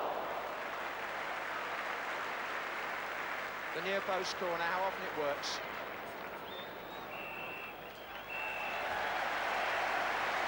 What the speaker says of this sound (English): Generous applause for Manchester United at half-time